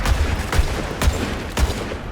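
Gunfire in the video game Borderlands 3: four heavy, evenly spaced shots about half a second apart, loud and close, over a dense rumbling battle background.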